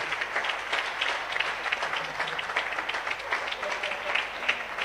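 A church congregation claps together in sustained applause, dense and steady throughout, with no distinct voices standing out.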